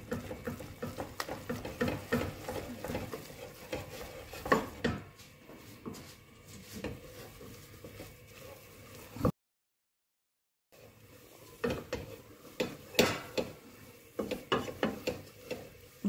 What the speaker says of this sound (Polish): kiedy wrzucamy naraz całą mąkę. Tak. I od razu szybko mieszamy.